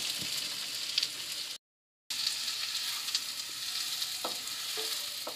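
The white part of spring onions fries in oil in a kadai, a constant bright sizzle with light stirring taps, briefly cut to silence partway through.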